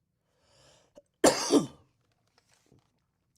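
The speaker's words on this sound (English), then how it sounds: "My throat feels scratchy. That's why I'm coughing." A man with a scratchy throat gives a short, harsh double cough, loud and close, between faint bits of quiet murmuring.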